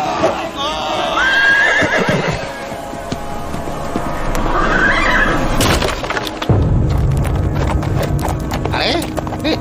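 A horse whinnies loudly and close, neighing repeatedly while its hooves clip-clop beneath, in a dramatized Hindi audio series setting with crashing effects and a voice speaking over the scene.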